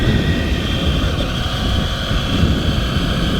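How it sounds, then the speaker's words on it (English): A steady mechanical whir with wind buffeting the microphone, the rotor of a large Fly Wing EC135 RC helicopter droning continuously without clear change as it spools down after landing, no voices. "Let's land it, listen to the spool down, and then listen to that spool up again."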